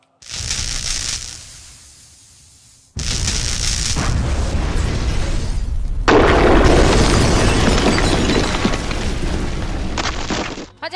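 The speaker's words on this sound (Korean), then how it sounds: "가스관이 폭발하여" Gas pipe explosion staged during a Korean public safety disaster drill at an education building, heard as loud sustained roaring bursts and blasts that fill the clip, with a brief quieter gap after the first burst.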